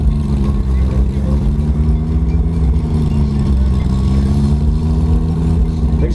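BMW drag car engine at the start line, a loud, steady low rumble of an idling or revving engine running throughout, with someone talking over it.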